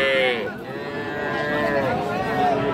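A young bull calf at a Bangladeshi cattle market gives one drawn-out, wavering moo close by, with market noise around it.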